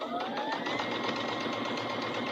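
A domestic sewing machine runs without a presser foot, stitching through quilt batting and cotton in a steady, continuous whir at close range with no talk over it.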